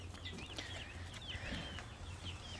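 Young chickens cheep and peep in a continuous, high-pitched chorus, fairly quiet and close, with no talking.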